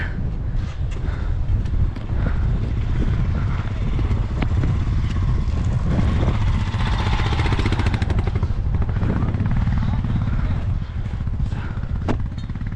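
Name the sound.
motorcycle being ridden out through snow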